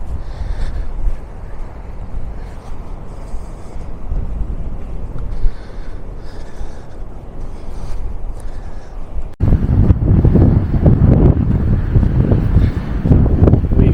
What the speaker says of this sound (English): it's quite windy today, so I think there's quite a few waves in the sea